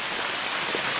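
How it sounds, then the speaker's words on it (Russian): Hail or small graupel pellets fall during snowy weather at a marsh goose-hunting camp, making a dense, steady hiss and patter that is close and even throughout, with no voices. "Град, вот так град, ребята."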